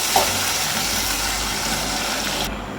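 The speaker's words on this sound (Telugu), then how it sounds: "ఇప్పుడైతే ఆనియన్స్ అయితే మంచిగా ఫ్రై చేసుకుందాం" Onions fry in a pan for a home-style chicken curry, giving a steady close sizzle and crackle throughout, with a brief clink near the start.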